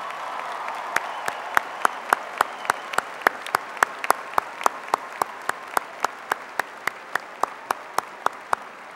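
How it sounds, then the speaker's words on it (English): Applause for mothers at a West Virginia University commencement: steady, fairly faint crowd clapping with a row of sharp, evenly spaced claps standing out close by. "let's give a round of applause to all of our great mothers today"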